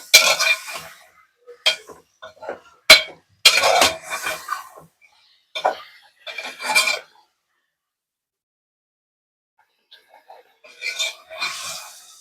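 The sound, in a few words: adding chicken to the pot and stirring for curry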